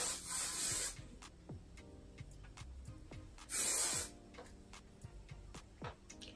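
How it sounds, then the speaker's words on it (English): Two long hissing bursts from an aerosol hair spray can, separated by quiet handling noises and light ticks. "So I lightly spray it."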